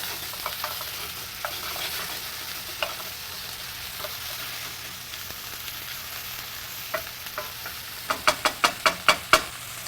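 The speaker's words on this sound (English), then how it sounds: "sugars in the onion are going to start caramelizing over time" Onions caramelize in a hot pan as a constant sizzle, broken by scrapes of stirring and then a quick run of rhythmic spatula taps near the end, with no talking.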